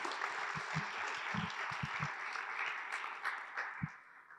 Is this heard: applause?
yes